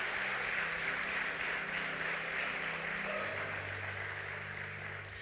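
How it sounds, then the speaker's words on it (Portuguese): A church congregation applauding during a Sunday worship service, a steady dense wash of clapping sustained throughout, with a low hum or music tone underneath and no talking. "Aplaudir a Jesus."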